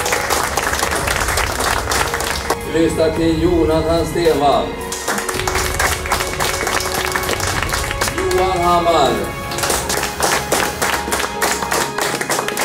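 Loud, sustained audience applause at a nature photography presentation, a dense wash of clapping that carries on throughout while a man announces names over it.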